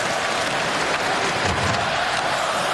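Islanders fans in a packed hockey arena during a game against the Detroit Red Wings let out a dense, steady wall of cheering and clapping that stays loud and unbroken throughout.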